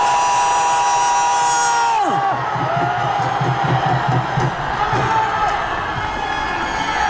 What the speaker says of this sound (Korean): 함성 한번 질러주십시오